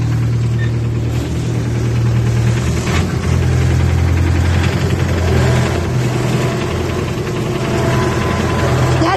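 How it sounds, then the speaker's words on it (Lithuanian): A tractor engine runs close and loud, a steady low throbbing rumble with a knocking edge that holds throughout without a pause. "Kuria traktorių."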